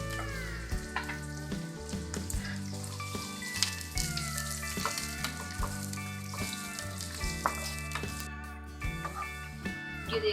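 A full-size onion fries in oil in a pan toward golden brown for Afghani pulao, a continuous close sizzle with periodic stirring clatters beneath soft background music.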